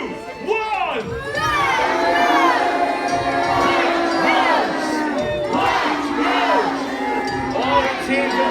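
A large crowd at a Wars of the Roses battle show at Warwick Castle chants and cheers loudly for the Lancastrians, a sustained roar of many voices with rhythmic rising shouts.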